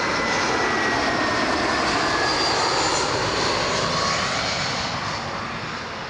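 Steady roar of an Air Canada Rouge Airbus A320 jet engine at Toronto Pearson, continuous and broadband, slowly fading toward the end with no voices over it.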